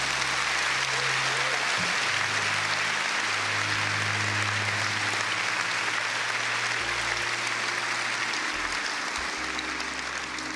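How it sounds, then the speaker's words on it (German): Steady, full applause fills a German film award hall for a lifetime achievement honour, with a low hum and faint voices beneath the continuous clapping. "Also dieser Applaus freut mich besonders."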